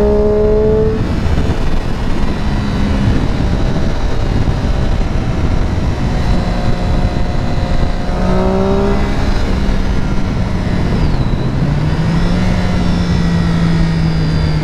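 Motorcycle riding on a road, its engine droning loudly and steadily throughout with rising and falling pitch as it shifts and changes speed, with wind rush over the top.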